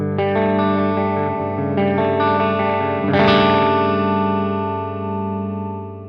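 Electric guitar on the bridge pickup through a Neural DSP Fortin Cali amp plugin on its clean setting, playing several ringing chords in turn, with a brighter strum near the end left to sustain and fade.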